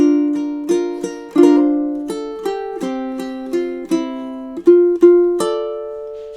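Solo ukulele plucks measures 12 and 13 of a song, a steady run of clear, bright melody notes with chordal strums mixed in, close and unaccompanied.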